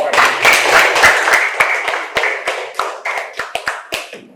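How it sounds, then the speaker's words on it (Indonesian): Audience clapping that begins as a loud, dense burst of many hands, then thins into scattered individual claps that taper away, with a brief voice near the start. "Begitu tepuk tangan dong"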